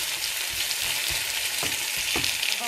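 Sauce with tomato paste frying in a pan, a continuous loud sizzle with soft scraping knocks of a utensil stirring at irregular intervals.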